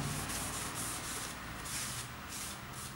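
Close, repeated rubbing strokes of paper towel wiping wood stain across a wooden dresser frame, a rhythmic swishing friction with no talking.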